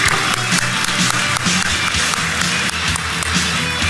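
Big round of applause from a DEF CON conference crowd for a speaker, dense and loud throughout, with sharp individual claps and a heavy low rumble underneath.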